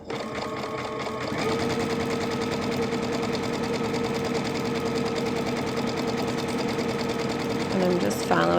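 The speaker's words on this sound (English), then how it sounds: "I'm just going to start sewing." A sewing machine stitches a Halloween treat bag with a steady, fast mechanical whir that starts after a moment and runs continuously, close up and loud.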